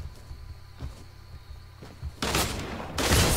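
Gunfire in Fortnite Playground mode, with a few faint shots early on, then two loud, dense bursts of rapid fire close by near the end.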